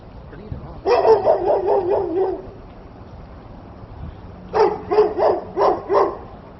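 A dog barks at an RV resort in Wildwood, Florida, in two bursts of about five or six quick, fairly close barks each, separated by a few seconds of quiet outdoor background.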